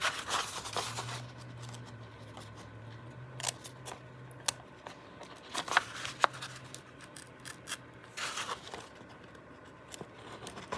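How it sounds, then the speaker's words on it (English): Scissors snipping paper while trimming an old, abandoned journal, with a run of short, crisp cuts close by, spaced unevenly across the stretch over a quiet low hum. "I keep buying scissors, trying to get them to work at the tip."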